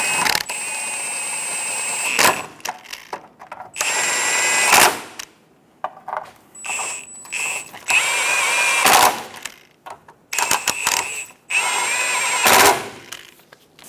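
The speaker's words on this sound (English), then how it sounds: "Snug the bolts down." A power tool whirs in loud repeated bursts while bolts on the front lower transmission mount of a 2003-2007 Honda Accord 3.0L V6 are run down, with short pauses between the stretches of whine and rattle.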